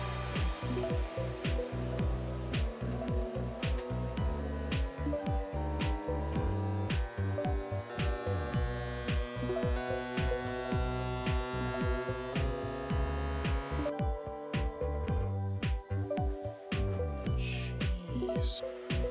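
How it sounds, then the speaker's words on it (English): A Qidi Tech Q1 Pro 3D printer runs an input shaping calibration, giving a loud, continuous mechanical buzzing hum with rapid throbbing pulses and sweeping tonal shifts throughout, close and alone without talk. "After that, I ran input shaping."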